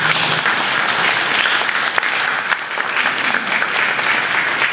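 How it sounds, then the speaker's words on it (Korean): Audience at a Korean maritime humanities lecture-concert applauding as an institute director is welcomed to the stage; steady, dense clapping throughout, fairly close and loud, with a brief murmur early on. "박수로 환영해 주시죠"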